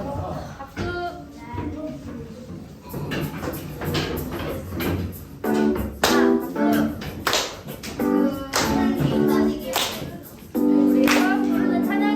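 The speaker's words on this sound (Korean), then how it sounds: "자, 일어나고 박수." Children clap along during an elementary Sunday school service at a gospel church, steady rhythmic claps mixed with singing voices and music, fairly loud throughout.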